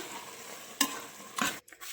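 Carrot halwa (gajrela) is stirred in a pot, a soft continuous scraping sizzle broken by two brief louder clatters of the spoon against the pot.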